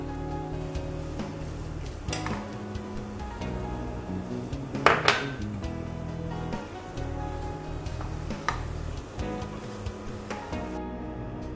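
Milk powder is stirred little by little into milk in a pan over a low flame; a metal spoon scrapes and clinks softly against the pan in an irregular rhythm, with one brief louder clatter midway.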